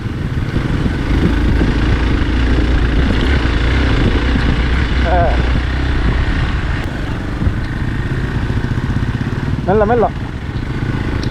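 A Royal Enfield Himalayan motorcycle crossing a small stream on a forest trail, its engine chugging loudly and steadily up close while water splashes faintly beneath it and a rider speaks briefly.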